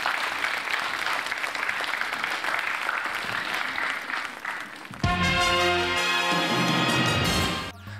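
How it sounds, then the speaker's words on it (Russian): A studio audience on a televised innovation contest show in 2014 applauds in a dense, steady wash for about five seconds before loud music cuts in and carries to the end. "Под аплодисменты провожаем."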